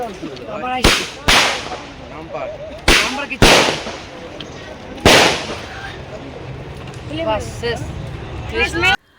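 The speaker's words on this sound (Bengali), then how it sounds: "আর নিচে হচ্ছিল বাজি ফাটানো" Fireworks bursting at a wedding evening, sharp loud cracks in a scattered sequence of about six bangs over a crowd, with people talking throughout.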